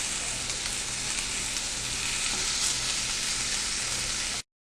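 Vegetables frying in a pan while cooking teriyaki chicken, a steady, close, unbroken sizzle that holds evenly throughout and then cuts off abruptly.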